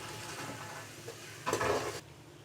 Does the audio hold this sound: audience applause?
no